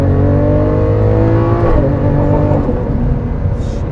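A 2015 Lamborghini Aventador with a single-clutch transmission accelerates hard, its loud engine roaring up through the revs with a quick gear shift partway through, heard close up and without talk.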